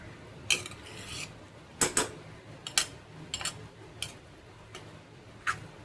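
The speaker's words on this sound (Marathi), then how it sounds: "पाणी टाकल्यानंतर पुन्हा त्याला एकजीव करायचं आहे" A spoon scrapes and clinks against a kadhai in irregular strokes while stirring sprouted moth bean (matki) usal after water is added, close by, with quiet kitchen background and no talking.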